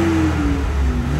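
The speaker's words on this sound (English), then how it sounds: "Paul, do you want to give it a rev?" The straight-six engine of a 1992 Lotus Carlton is revved, producing a loud, close, smooth engine roar that climbs and holds through a short burst.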